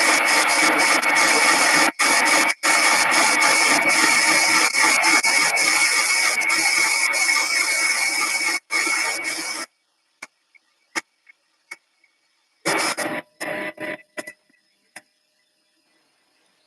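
A slow-RPM coffee grinder works through 25 grams of beans with a loud, steady, gritty whir and rhythmic crunching for about nine seconds, then stops, followed by scattered faint clicks and a brief second rattling burst.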